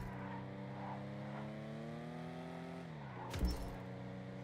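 A car driving in GTA during the Titan Job heist: a steady engine drone with rising pitch that drops sharply, followed by a brief thump or impact, in a short burst.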